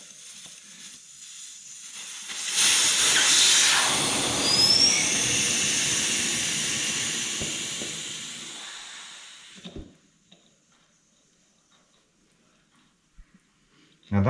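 Air hissing out of a tire on a Powerdrive wheel as pressure is released: a loud, broad hiss swells suddenly, then fades over several seconds before stopping, followed by faint clicks.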